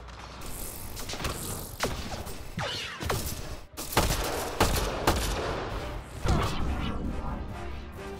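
Enemy gunfire in the sci-fi shooter game Mass Effect Andromeda: repeated loud bursts of shots and impacts, some rapid and some single, close and dense throughout with no talking.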